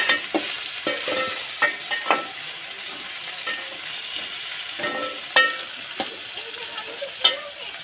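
Tomatoes frying in chicken curry while being stirred, with a steady sizzle broken by repeated scraping and clacking of a spoon against the pan at close range.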